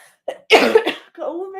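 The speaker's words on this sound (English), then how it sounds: "COVID cough." A single close, loud cough with a throaty rasp, followed straight away by a short voiced sound like a clearing of the throat or a brief word.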